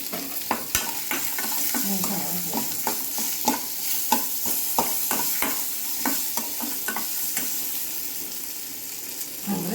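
Onion, dried chilli, garlic and tamarind frying in a pan, a continuous close sizzle broken by frequent sharp clicks and scrapes of a spoon stirring in quick, uneven rhythm.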